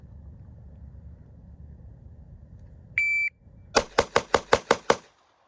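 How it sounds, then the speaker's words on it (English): A shot timer's single high beep, then seven rapid, loud pistol shots from a Palmetto State Armory Micro Dagger handgun at a shooting range, evenly spaced and ending in silence. "Give me a timer."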